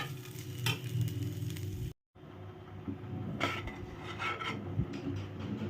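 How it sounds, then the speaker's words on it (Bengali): Cooked rice stirred in a hot frying pan after the gas is switched off, giving a steady close scraping, rasping rub with soft sizzle, a brief gap, then continued stirring strokes. "যে গরমটা যে আছে আমার ফ্রাইং প্যানটা তার মধ্যেই আমি এটাকে নাড়ব।"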